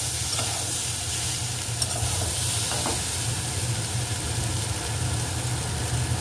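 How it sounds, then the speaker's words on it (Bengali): Ginger paste sizzles in hot oil while being stirred, a continuous close frying hiss with a low rumble beneath and a few brief scraping clicks, no voices. "এবার দেওয়া হচ্ছে আদা বাটা"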